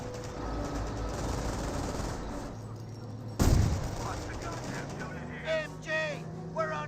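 Machine gun fire in the wartime strategy game Company of Heroes, a rattling stretch of distant gunfire, then a sharp loud blast, followed by quieter battle noise as voices speak over it.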